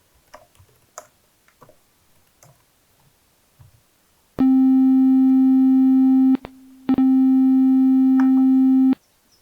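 After a few faint ticks, a steady synthesized triangle-wave C4 tone sounds for about two seconds, cuts briefly, then returns for another two seconds.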